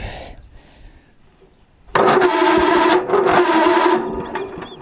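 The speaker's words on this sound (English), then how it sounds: "Boy, that starter sounds sick." A starter motor cranks a hammermill engine in a loud, strained whir that begins abruptly after a quiet stretch and runs for about two seconds before fading.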